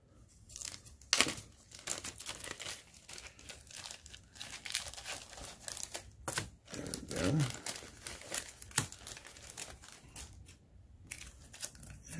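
Board game promo material in plastic packaging being opened, with repeated close crinkling, tearing and crunching bursts of uneven rhythm, some sharp and loud, with quieter pauses between.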